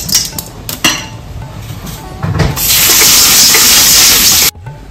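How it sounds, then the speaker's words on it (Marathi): Chana dal being washed in a metal vessel for Holi puran poli: light clinks and knocks of the pot, then a steady loud rush of running water for about two seconds that stops abruptly near the end. "चणा डाळ धुवून घेऊया."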